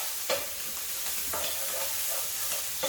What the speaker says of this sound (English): Now we just give this stuff here a stir.